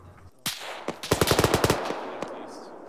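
Gunfire in the military shooter game Arma 3: a couple of isolated shots, then a rapid burst of about ten evenly spaced rounds, loud and near, trailing off into a short echoing tail.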